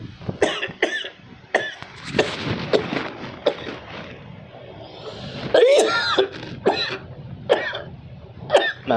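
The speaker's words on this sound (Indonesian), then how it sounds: "Maaf, saya batuk" Harsh coughing fits, several sharp bursts in close succession, with a louder, deeper cough partway through. A voice is faintly audible between them.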